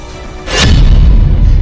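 A loud, close explosion booms from a warship firing at sea, a sudden blast that swells into a sustained low rumble.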